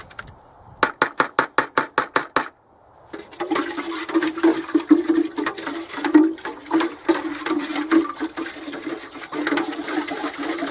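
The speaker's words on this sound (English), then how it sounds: "I'm going to put some water in the tin to rinse round the tin." Water sloshes and swirls around the inside of a paint tin during brick wall painting, rinsing pigment off the sides. A quick series of sharp rhythmic knocks comes first, then a continuous close, splashy churning.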